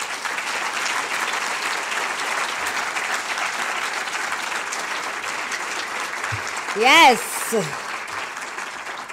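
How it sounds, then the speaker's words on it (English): An audience at a short film awards ceremony applauds young filmmakers with steady, sustained clapping, and a single voice cheers briefly near the end. "we give them all another little round of applause"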